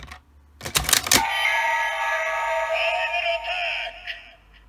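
A DX Kamen Rider Decade Complete Form Ridewatch toy from Kamen Rider Zi-O plays its final attack sound: a quick burst of sharp clicks, then a bright, sustained electronic tone that fades gradually.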